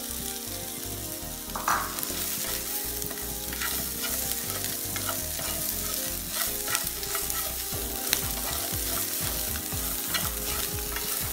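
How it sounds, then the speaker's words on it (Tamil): Chickpeas sautéing in hot oil in a pan, a steady dense sizzle with frequent stirring scrapes and clinks throughout, no voices. "பாருங்க நல்லா வதங்கிட்டது."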